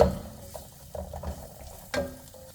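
Onions for okra stew with beef sauté lightly in a pot, making a quiet sizzle broken by a few soft spoon stirs and scrapes, with no talking.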